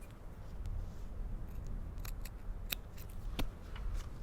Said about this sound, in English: you could just get your snips and just trim that little bit off